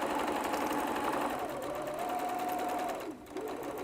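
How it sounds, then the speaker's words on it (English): A sewing machine runs steadily, stitching fabric tightly along a zip. The fast mechanical whir holds close and continuous, dips briefly near the end, then resumes. "making sure that my sewing machine is stitching up against that zip"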